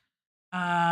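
A sudden, sustained buzzy sample, pitch-bent, distorted and EQ'd, with a bleating quality kicks in halfway through after silence, loud and steady to the end.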